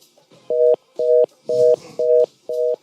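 Telephone line tones ring on a radio call-in show, five evenly spaced electronic beeps, each about a quarter second long, repeating at a steady half-second rhythm over a faint background.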